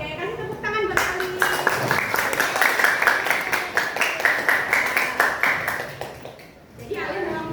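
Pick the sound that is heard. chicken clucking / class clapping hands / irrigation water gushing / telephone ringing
class clapping hands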